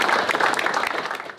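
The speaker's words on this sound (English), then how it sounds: "So I just want to give a clap to everyone for making it." A brief burst of group clapping from a gathering of selected players at a sports combine, dense and close, fading slightly at the end.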